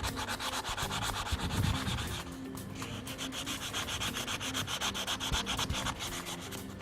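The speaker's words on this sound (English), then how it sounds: "we just basically work our way round and remove as much of the rust scale as we can" Hand scrubbing of rust scale off a metal surface, a quick rhythmic run of rasping strokes, close and fairly loud, with a brief heavier scrape near the start and no voices.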